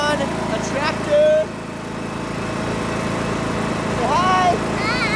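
A tractor engine runs steadily close by during a Labor Day weekend outing, a constant low throbbing drone with a rhythmic chug, while people talk over it.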